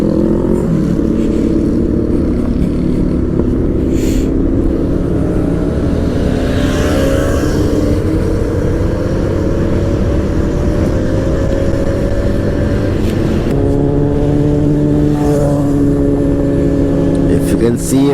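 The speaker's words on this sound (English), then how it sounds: "Some really powerful bikes, man." Several powerful motorcycles ride past on a highway between Goa and Pune, with loud engines revving and shifting over steady road and wind rumble and a person talking over the noise.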